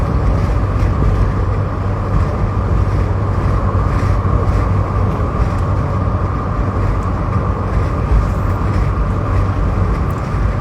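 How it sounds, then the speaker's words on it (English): A car drives along with its windows down on a warm day in Perth, giving a steady, loud roar of wind and road noise with a constant engine drone and no talking. "we're driving with the windows down because the weather is beautiful"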